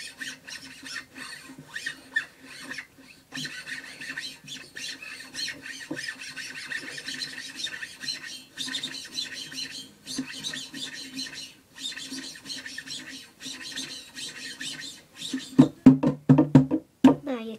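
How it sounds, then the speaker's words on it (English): Guitar strings are rubbed to make scraping, squeaky tones that run in uneven bursts for most of the stretch. Some sharper louder strums or hits come near the end, and a voice speaks briefly. "That noise you get by rubbing the strings."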